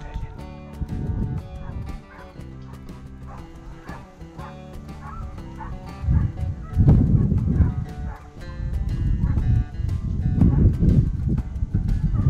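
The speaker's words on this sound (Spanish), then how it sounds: "no parábamos de escuchar ladras por todo el monte" Hunting dogs bark and yelp across hilly scrubland during a montería in Extremadura, Spain. The barks are repeated and overlapping, some distant and some closer, with occasional whimpers and background noise.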